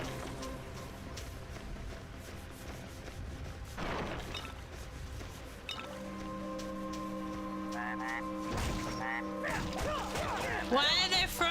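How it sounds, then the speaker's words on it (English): Frogs croaking in a salt marsh level of the Torchlight II game, repeated calls over a background of game music and effects, with bursts of louder in-game sounds layered on top. "Why are there frogs here?"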